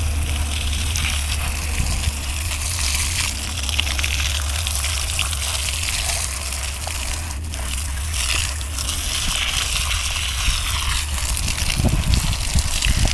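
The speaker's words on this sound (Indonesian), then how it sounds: "Ini harus aku siram semua teman-teman." Continuous gushing water sprays steadily, close and loud, from a hose watering chili plants, with no talking.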